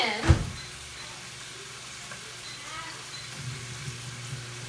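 Bacon sizzling in a pan, a soft steady crackle with a sharp clatter near the start and a low hum underneath; no one talks.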